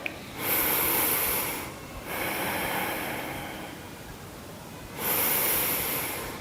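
Steady breathing during a yoga stretch, with slow, loud, airy breaths passing close to the microphone in long hissing waves, two of them separated by a quieter pause.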